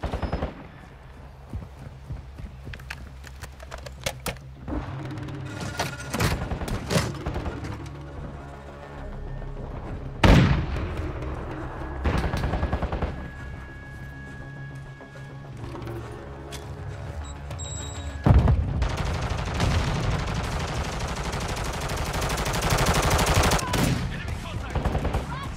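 Enemy gunfire in the Call of Duty: Modern Warfare II video game, with bursts of rapid automatic fire and single shots crackling through a busy battlefield mix over about 25 seconds, brief voice callouts heard now and then.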